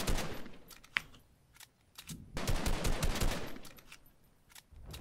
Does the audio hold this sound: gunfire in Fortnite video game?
yes